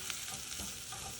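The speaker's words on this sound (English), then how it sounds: "We're just gonna saute it in our" Diced onion, chopped garlic and jalapeno sauté in a pan with a steady, close sizzle and a little stirring scrape, continuous and alone.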